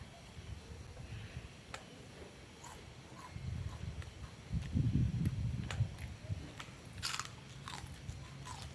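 Someone bites and chews a crunchy grilled Thai rice cracker up close, making dry, irregular crunches over a low background rumble.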